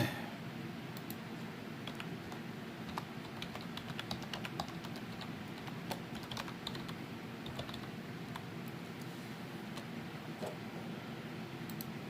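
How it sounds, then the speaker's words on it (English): Continuous typing on a computer keyboard, rapid irregular key clicks close by over a steady background hum, with no talking. "I'll type it in for you."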